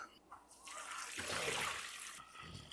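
Pork bone broth pours into a pot holding boudin ingredients, making a steady splashing, gurgling stream at close range that swells in the middle and then tapers off.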